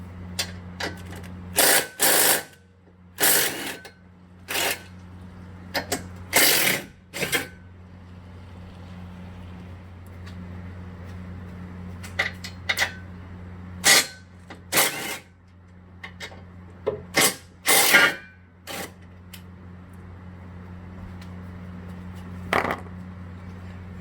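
Short, sharp bursts from a tool working 13mm bolts off a Whipple-supercharged 2014 Mustang GT, about a dozen separate spurts at irregular intervals over a steady low hum, close and fairly loud.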